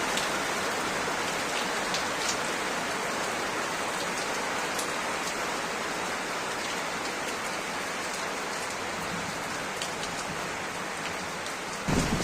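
Heavy evening rain during a Kalbaishakhi storm in Barasat pours down steadily, a close, constant patter on surfaces with scattered sharper drop hits and a brief low rumble at the very end.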